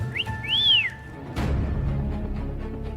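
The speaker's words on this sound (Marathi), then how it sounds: "कोणी शिट्टी मारली?" Someone gives a loud, close rising-and-falling whistle lasting about a second, followed by a sharp thump and a steady background hum, with no talk heard.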